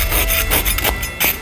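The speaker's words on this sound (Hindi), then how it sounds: "मुझे यहाँ मेरी आरी दे दो।" Hand saw cutting, a rapid rasping back-and-forth of rough strokes, loud and close with no talk over it.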